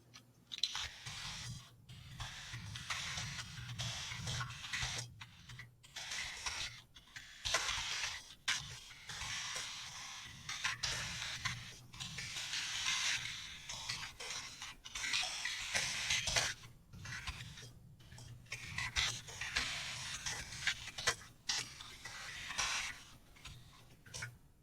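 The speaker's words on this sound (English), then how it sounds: "This is a budget, not mechanical, it's a budget gaming keyboard." Quiet typing on a cheap $20 budget gaming keyboard with membrane switches, a soft irregular stream of muffled clicks and taps in bursts with short pauses, fairly faint and close.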